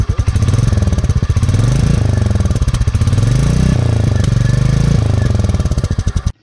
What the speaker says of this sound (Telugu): ఇంజన్ సౌండ్ ఎలా ఉంటుంది అనేది కూడా ఇందాం ఒకసారి చూడండి.